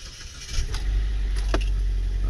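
Car engine catching after a jump start: a short cranking burst, then a steady low idle rumble, with a couple of faint clicks or key jingles on top.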